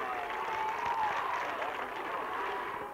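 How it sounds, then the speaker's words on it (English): A crowd of Wofford Terriers football fans at a 1981 game against Carson Newman cheers from the stands below the press box, a broad sustained roar with scattered applause. "so the noise you hear will be that of the Wofford Terrier crowd just below us"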